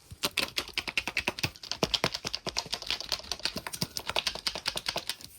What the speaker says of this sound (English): And the capsule, when it's shaken, sounds like this.